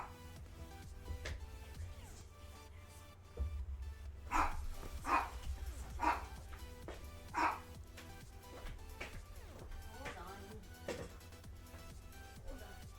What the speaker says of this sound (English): You might be able to hear Azar, my dog